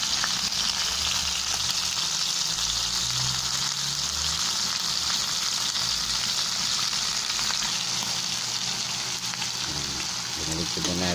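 Pork steak fries in a pan with a constant loud sizzle and occasional stirring, heard up close, while a person talks over it.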